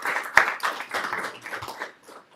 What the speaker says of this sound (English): would you please show your appreciation and give her a round of applause